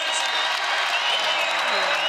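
College wrestling arena crowd at Minnesota vs Campbell roaring after a takedown, a dense sustained wall of cheering and applause throughout, with a commentator's voice over it.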